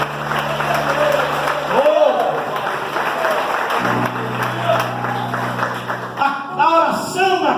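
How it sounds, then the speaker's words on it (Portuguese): A church congregation applauds during an evening sermon, steady sustained clapping filling the room while a voice talks over it. "Aplauda ele mais uma vez essa noite"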